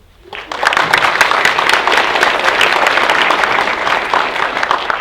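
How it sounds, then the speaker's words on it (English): An audience claps loudly and steadily, a dense wash of applause that swells quickly and holds for several seconds. "Please give a round of applause for Tracy Irwin."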